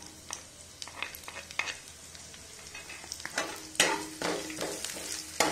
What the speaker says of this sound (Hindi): बारीक कटा प्याज डालेंगे।